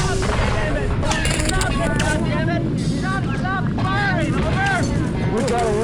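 Gunfire rattles at Firebase Jerry during the Vietnam War, with repeated bursts of shots under shouting voices and radio chatter, loud and continuous across a noisy battlefield.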